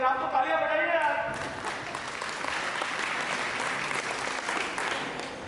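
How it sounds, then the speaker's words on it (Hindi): Applause from a convention audience at a theatrical presentation breaks out after a man's speech and continues as a steady, moderately distant wash of clapping. "आप तो तालियां बजाइए यार"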